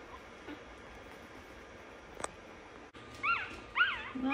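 One-week-old Shih Tzu puppies give a series of high, thin whimpers and squeaks near the end, close and fairly faint, after a quiet stretch with a single soft click.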